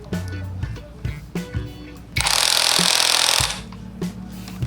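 A power tool tightening a bolt on a motorcycle front shock roars loudly for about a second and a half, set between clanks and knocks of metal parts being handled.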